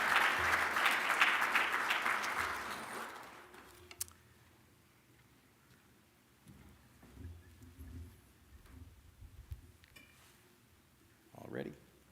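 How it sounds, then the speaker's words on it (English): An audience applauds at a service awards ceremony honouring 20-year employees, dense clapping that swells for about three seconds then fades, leaving scattered murmurs, light clatter and voices talking in the room. "Can we now please show our appreciation of this year's 20-year recipients with a round of applause?"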